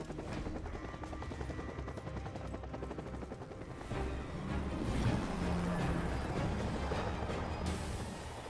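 A helicopter in the action game Bayonetta 3, set in a burning city battlefield, gives a steady rotor drone that swells louder midway, with no talk over it.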